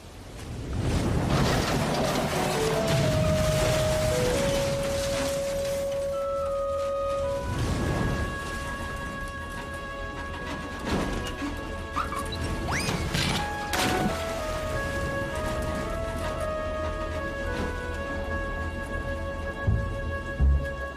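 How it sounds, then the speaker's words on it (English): Animated storm scene from a 2001 Christmas special: a loud, dense roar of rain and crashing thunder fills the whole stretch, while sustained musical tones play over it. "Let's just get out of this storm."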